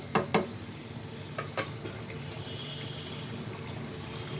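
Chickpea and mutton curry gets stirred in a pan, with a couple of sharp scraping knocks at the start, then a steady low sizzle and bubbling close by, no voices.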